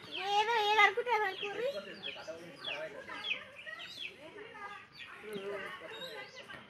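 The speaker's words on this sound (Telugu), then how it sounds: "చిన్న కోడిపిల్ల." Small chicken chicks cheep in a village yard, a run of high, thin chirps repeating close by at a moderate level, with people talking over them.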